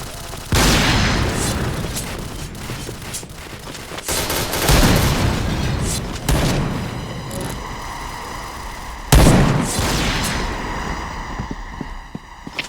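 Loud booming grenade blasts in a video game hit repeatedly, each followed by a long rumbling, crackling decay, with sustained rapid gunfire filling the gaps between them.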